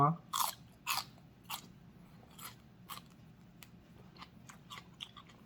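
Close crunchy bites and chewing of fresh crisp vegetables eaten with grilled pork and sticky rice, a series of sharp crunches, heavier at first and then lighter and more scattered.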